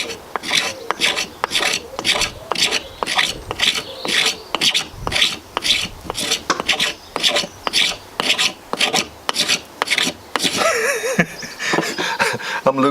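A ferrocerium rod is scraped again and again to shave off flakes, giving rhythmic, close, rasping strokes about twice per second, ending in a burst of wind noise.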